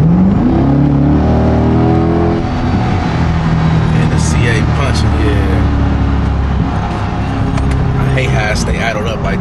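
A 2023 GMC Sierra 3500 Denali dually truck accelerates hard in sport mode, its loud engine note climbing and stepping through upshifts, with voices heard over the drive.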